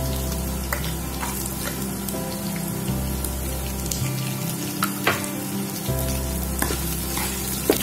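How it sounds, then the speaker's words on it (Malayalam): Shallots fry in hot oil in a pan for moru kachiyathu, a Kerala buttermilk curry made without coconut. A loud, steady sizzle runs throughout, broken by occasional stirring scrapes and pops, with no voices. "ചെറിയുള്ളി ചേർത്ത് കൊടുക്കാം."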